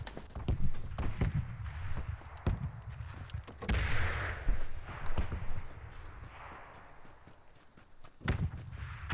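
Shots from an S1897 pump shotgun in PUBG crack out as several sharp, irregular bangs of varying loudness over background game ambience.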